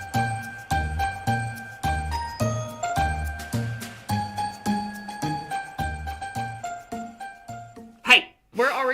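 Bright bells jingle in a steady, bouncy rhythm over a tinkling tune, with a brief voice near the end.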